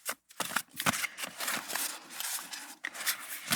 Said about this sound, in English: these cards are really hard to shuffle because they're sticking together